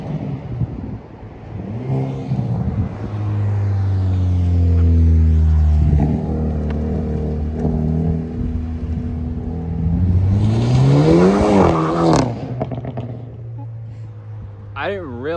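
A Hyundai Elantra N engine revs up and settles back, its rising and falling exhaust note loud and near, with a second sharper climb later and a person talking over it.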